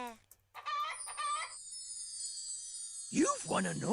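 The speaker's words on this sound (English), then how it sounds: "It's the chicken. Oh, the chicken." A cartoonish chicken in a video game clucks in short bursts, then a long held squawk and a final rising cackle, crisp and close with a faint bell-like tinkle.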